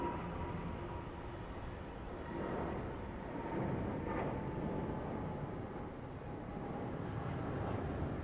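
An airliner landing on runway 34 left at Sydney Airport, a low, distant continuous roar with faint rushing swells and no talk over it.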